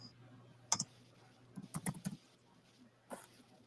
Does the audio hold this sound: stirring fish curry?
no